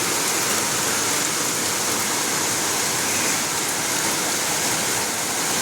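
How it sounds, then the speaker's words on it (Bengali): Heavy rain pours down steadily and loudly, a dense unbroken wash of water with no voices and no letup across the whole stretch. "দেখো বলতে বলতে এত জোরে বৃষ্টি নেমে গেল"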